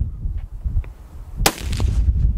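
A single loud, sharp rifle shot from a .300 Win Mag, fired into dirt at an outdoor range, cracks out midway and trails off quickly. A couple of faint distant pops come before it.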